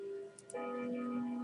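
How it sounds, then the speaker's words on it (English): A grandfather clock sounds indoors; after a brief soft click, a sustained ringing chime tone swells and holds, moderately faint. "Well, that was my grandfather clock"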